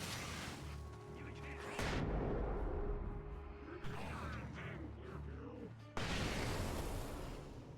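A shotgun fires in the horror video game Alan Wake Remastered, with heavy booming blasts amid dense game sound and a person talking over it.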